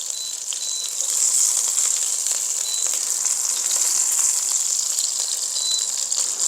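Oil sizzles steadily in a wok over high heat while gambas cook, a loud, continuous crackling hiss with scattered pops running throughout, with no talk over it.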